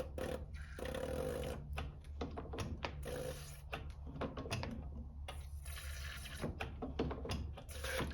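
A mechanical diesel injector chatters on a test bench, giving quiet, rapid, irregular clicking and hissing spray bursts that repeat steadily throughout.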